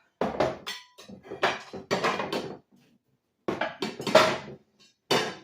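Glass or ceramic baking dishes clink and clatter in a kitchen as they are sorted and stacked, in several short clustered bursts with a quiet pause in the middle.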